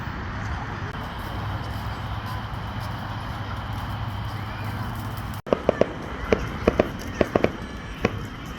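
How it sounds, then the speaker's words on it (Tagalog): Distant fireworks burst in a quick irregular series of sharp cracks and pops over a steady crowd murmur, following a stretch of ambient noise at a busy outdoor evening gathering. "Oh guys, may fireworks doon."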